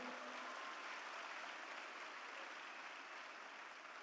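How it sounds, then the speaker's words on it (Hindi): Audience applause at a gathering, a steady wash of clapping throughout, fairly faint and distant, with no individual claps standing out. "एक बार जोरदार तालियां बजाएं, जोरदार"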